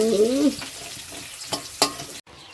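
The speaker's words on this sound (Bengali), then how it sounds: "এদিকে আলু কাটছে আর ওদিকে মা শাক ভাজছে" Greens sizzling in hot oil with a few scraping stirs, a brief voice at the start, then steady frying and a sudden cut near the end.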